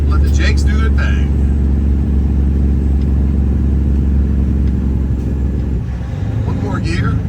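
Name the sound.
semi truck Jake brake engine braking while downshifting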